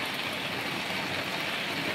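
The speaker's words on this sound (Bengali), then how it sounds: "ওই লাইটগুলোর দিকে তাকালে বোঝা যাচ্ছে যে প্রচুর পরিমাণে বৃষ্টি হচ্ছে" Heavy rain pours down at night in a dense, even hiss that stays constant and loud for two seconds, with no voices.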